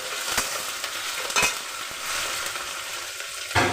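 Fish pieces frying in hot oil in a pan, a steady loud sizzle with a few sharp spatters and stirring knocks, ending in a sudden burst of crackle.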